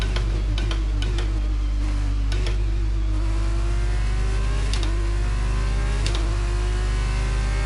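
An F1 car in the F1 22 racing game weaves to warm its tyres at Abu Dhabi, a loud steady engine drone with the pitch rising and dipping as it swerves, plus occasional ticks.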